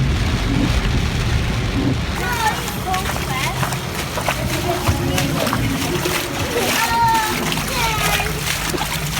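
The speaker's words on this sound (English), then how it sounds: "Big old fat rain." Heavy rain in Cozumel falls in big fat drops, a loud continuous splashing and pattering close by, with people talking over it.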